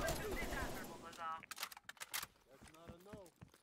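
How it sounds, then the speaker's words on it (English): Enemy gunfire in the Black Ops Cold War video game: a burst of sharp rapid shots in the middle of the clip, preceded and followed by a person talking over the game sound. "I don't know where they're shooting me from."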